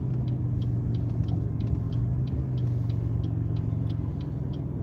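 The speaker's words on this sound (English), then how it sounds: "I swear this transmission, this car is slipping." Inside a car at night, a steady low engine and road rumble drones on, with a faint regular ticking pulse over it, while the car's transmission slips.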